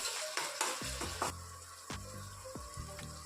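Chopped tomato with salt frying in a pan for an egg Maggi dish: a steady soft sizzle under several clanking stirs and scrapes of a utensil against the pan, close and fairly quiet, no talk.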